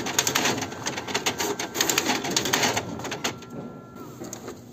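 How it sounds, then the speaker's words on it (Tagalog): A black-and-white printer prints a resume with a close, steady run of rapid mechanical clicks and whirring, fading slightly toward the end. "hintayin mo na lang siya na lumabas dun sa printer"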